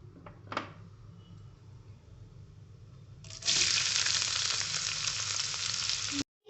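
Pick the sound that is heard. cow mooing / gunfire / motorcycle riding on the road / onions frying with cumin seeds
onions frying with cumin seeds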